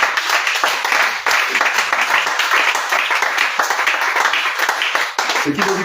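A church congregation applauding, a loud continuous crowd of clapping hands with a voice or two rising over it near the end.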